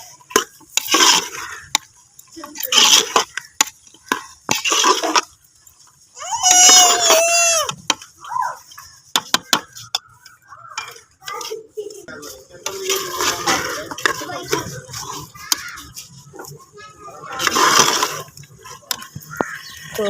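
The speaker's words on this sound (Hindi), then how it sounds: "इसके साथ ही हम अपने ये हमने रवा जो बॉईल किए हैं वो डाल देंगे, इसकी अच्छे से भुनाई करेंगे।" Beef with boiled beans being fried and stirred in a pot, with repeated clinks and scrapes of a spoon against metal and a hiss of cooking, plus brief faint voices in the background.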